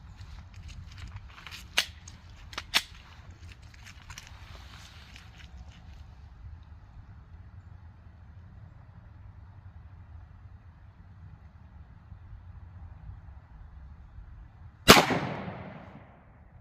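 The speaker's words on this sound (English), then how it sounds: "Let's see if I shoot any different, or if I can at least average a group out a little bit more." A .40 S&W Smith & Wesson M&P pistol firing Underwood 155gr XTP rounds: two sharp shots early, then a single louder close report late, with low rumbling background between.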